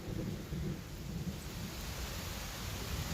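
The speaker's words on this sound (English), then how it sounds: "there's thunder!" Heavy rainstorm outdoors with thunder rumbling low and continuous beneath a dense, steady hiss of rain, loud and unbroken throughout.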